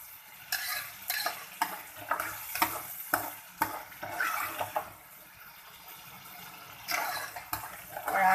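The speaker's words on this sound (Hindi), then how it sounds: "इसमें चमचा मुसलसल चलाना है" A spoon stirs suji halwa in a pan in a repeated series of close, rhythmic scraping strokes over a faint sizzle, with a pause in the middle before stirring resumes.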